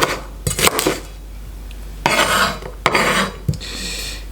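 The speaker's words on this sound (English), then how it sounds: "Red onion. I will chop this roughly, kind of like this." A knife roughly chops a red onion on a board for tom yum, giving a few close, crisp cutting strokes in short bursts with scraping between them and no voices.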